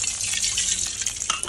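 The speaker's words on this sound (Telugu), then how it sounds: "ఇప్పుడు ఇదే కడాయిలో స్టవ్ ఆన్ చేసుకొని దానిలో 1 గ్లాస్ వాటర్ తీసుకుంటున్నాను" A glass of water is poured into a kadai on a lit stove, a short, loud, close splashing gush with no talk.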